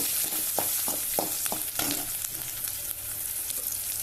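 Garlic and chillies sizzling steadily in a hot pan with oil, a continuous crackling hiss broken by soft scraping stirs, close and fairly loud with no talking.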